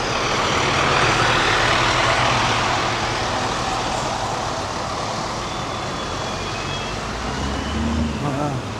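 Passing vehicles on a road near a beach in Tenerife, a loud, continuous wash of traffic noise with heavier engines rumbling close by throughout, and faint wind.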